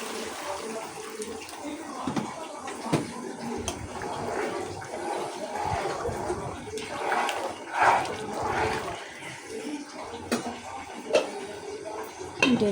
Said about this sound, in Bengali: এখন কিছু পানি এটার সাথে দিয়ে দিব।